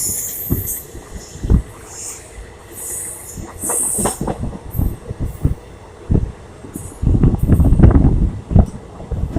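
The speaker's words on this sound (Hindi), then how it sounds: "प्लेटफॉर्म नंबर 3 पे अराइव होना स्टार्ट हो चुकी है और बहुत अच्छी स्पीड अराइव कर रहा है" Padmavat Express pulling into platform 3 at Shahjahanpur station at speed: loud rolling wheels, rhythmic clatter and metallic squeal building to a dense rumble as the carriages pass close by.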